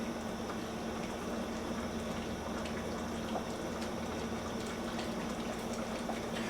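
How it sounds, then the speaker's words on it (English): Pork chop gravy on a stove heats toward a boil, giving a faint, steady bubbling and simmering hiss with a low hum throughout and no talking. "Turn that fire up, let it come to a decent boil."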